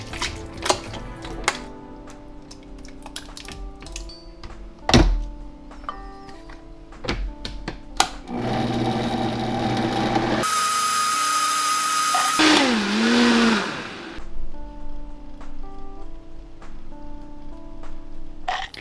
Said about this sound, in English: go ahead and process it in my Vitamix